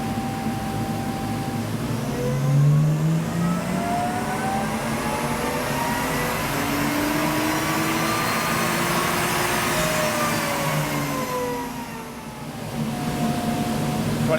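A supercharged Lexus IS200 drift build held at 50% throttle on a dyno, a loud sustained engine drone with rising and falling whine tones and a steady roar throughout, briefly dipping near the end.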